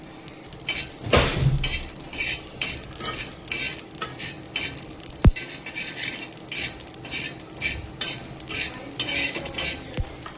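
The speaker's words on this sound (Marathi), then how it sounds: "त्याच तव्यावर ॲड करते पांढरे तीळ आणि खसखस. ह्यालाही अगदी 1 मिनिटभर भाजून घ्यायचं आहे." A utensil stirs and scrapes white sesame and poppy seeds as they dry-roast on a hot griddle, producing a steady close crackle and rhythmic scraping with occasional sharp metallic clinks.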